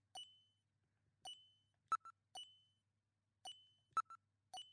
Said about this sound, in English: Listen, you can hear a sound like that of a timer.